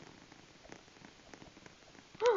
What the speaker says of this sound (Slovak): Ešte tu aj veľká mačka.